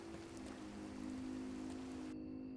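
Rain falls steadily in the horror video game Dreams in the Witch House, a soft continuous patter under a low sustained drone, with a faint high tone appearing near the end.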